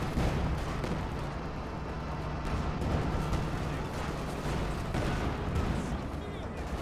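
Howitzer artillery fire in Company of Heroes 2, a 20th Panzer Division artillery park, rumbles as dense, continuous booms and blasts throughout, with voices present over the bombardment.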